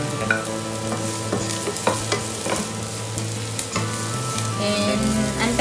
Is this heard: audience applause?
no